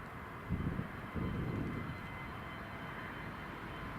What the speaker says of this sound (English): There's the Aer Lingus ATR just coming in.